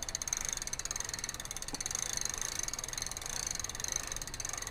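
Bicycle freewheel ratchet on a Magnum Metro bike clicking rapidly and evenly as the pedals turn backwards, a faint, steady buzz-like ticking with no voices.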